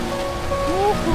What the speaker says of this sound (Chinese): 这是下的冰雹加雪呀！